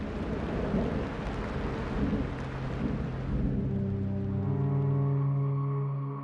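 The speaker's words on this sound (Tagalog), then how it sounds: "Padilim na at umuulan pa rin sa labas." Steady rain pours down with a low thunder rumble rolling beneath it, close and continuous, with no voices.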